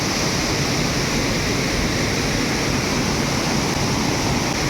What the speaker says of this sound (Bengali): এখানে নেমে স্নানও করা যাবে না মানে এত স্পিডে জল বইছে